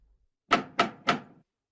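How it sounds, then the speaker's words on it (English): Three firm knocks land on a wooden door in an even, deliberate rhythm, each close and resonant with a short decay, followed by silence. "There was a knock at the door."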